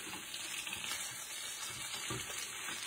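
Food sizzling in a small frying pan while being turned with tongs, a steady soft crackle with faint scraping and handling noises, quiet and close.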